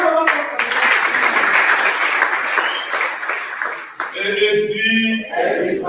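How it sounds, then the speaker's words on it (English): Crowd applause at an AAC presidential primaries rally in Abuja: dense, loud clapping fills the space, with cheering voices rising near the end. "Please, a round of applause for"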